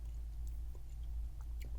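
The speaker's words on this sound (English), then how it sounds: "the gummy candy inside of the chocolate. It blends together well as you chew it." Close, quiet chewing of a small chocolate snack with gummy candy inside, soft sticky mouth sounds and a few faint bites spread over a steady low background, with no talking.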